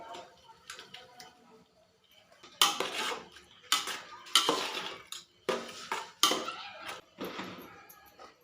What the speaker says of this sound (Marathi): बटाटा घालूया आणि हे आता व्यवस्थित मिक्स करून घेऊया